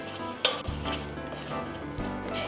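Banana pancake batter with sugar and cardamom powder being stirred in a bowl, a sharp clink at the start followed by steady soft scraping and swishing strokes, close and quiet, with no voices.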